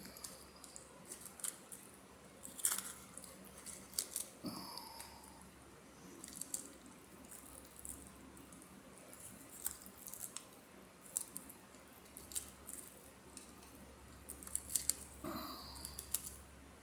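Kitchen shears snip through the backbone of a raw chicken being spatchcocked, giving a series of quiet, irregular crunching cuts with wet squishing in between, close by and with no talk.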